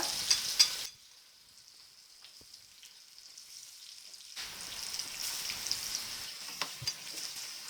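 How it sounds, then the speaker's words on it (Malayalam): Brinjal slices shallow-frying in a pan, a bright sizzle that drops to near silence for several seconds, then returns as a steady hiss with small pops, close, no voices. "നിരത്തിയിട്ട് 2 പുറവും മറിച്ചിട്ട് ഫ്രൈ ചെയ്തെടുക്കാം."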